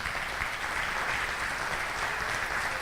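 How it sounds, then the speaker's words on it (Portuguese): Church congregation applauding the Lord during a sermon, a steady dense wash of clapping that fills the whole span at even loudness with no voices standing out. "Então aplaude o Senhor por isso."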